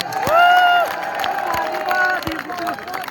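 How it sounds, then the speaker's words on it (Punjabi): A crowd at the Talwandi Sabo horse fair claps and cheers, with sharp claps over a steady crowd murmur, while an amplified voice and tonal sounds carry over the top. "ਜਿਹੜੇ ਦੀਪ ਸਿੱਧੂ ਨੂੰ ਪਿਆਰ ਕਰਦੇ ਹੋ ਤਾੜੀ ਲਾ ਦਿਓ"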